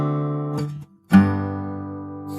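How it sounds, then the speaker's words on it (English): Two sustained chords played alone, the first held briefly and then after a short gap a second rings out longer, outlining a 1 to 5 progression in a fairly quiet, close sound. "when I play a 1 to 5 progression"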